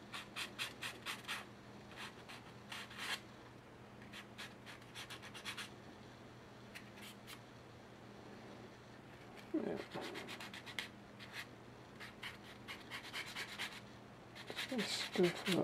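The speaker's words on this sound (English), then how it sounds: "I'm going to take a little bit of sandpaper here. Kind of scuff up a very narrow line where I'm going to be putting it" Sandpaper scuffs a narrow strip on the shiny body of an Estes Alpha III model rocket, heard as close, short scratchy rubbing strokes in repeated bursts with quieter pauses between.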